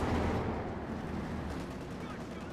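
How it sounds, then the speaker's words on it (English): Dense battlefield din from Company of Heroes 2: mortar rounds and gunfire roll together in a continuous loud wash of booms and crackle, with no clear break across the whole stretch. "Mortar firing down death."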